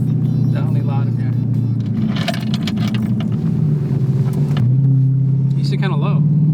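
From inside a 900-wheel-horsepower Dodge Hellcat, the engine roars loudly and revs, rising and falling. People talk over the noise.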